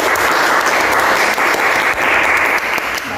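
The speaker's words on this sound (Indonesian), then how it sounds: "Tepuk tangan buat Mbak Dita." A classroom group claps together in a brief burst of dense, loud applause that stays steady throughout.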